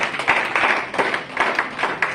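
A church congregation claps together in praise, a dense, lively burst of many hands with uneven pulses of louder clapping, close and steady, with no voices.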